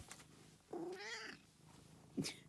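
A pet cat meows for its dinner: a quiet, drawn-out meow followed by a short second call about a second later, heard alone indoors.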